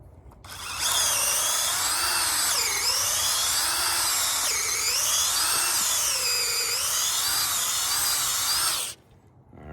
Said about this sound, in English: So let's go ahead and drill a couple holes.